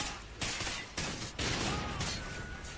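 Gunfire in the shooter game Call of Duty: Ghosts, dense overlapping bursts of shots and crashes in a continuous, fairly quiet stream that swells in waves, with no clear talking.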